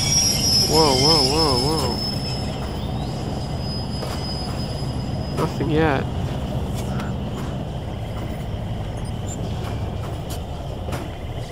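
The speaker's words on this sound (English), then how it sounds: "The train is definitely slowing down." A train in the video game Crysis Warhead rolls along and slows with a steady rumbling roar, broken by sharp wavering wheel squeals and metallic clanks, while someone briefly speaks over it.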